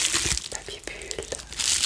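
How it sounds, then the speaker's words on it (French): Crackling, crinkling bursts of plastic being squeezed and handled, irregular and close, with faint breathy sounds in between. "on va s'attarder un peu sur le son du papier bulle"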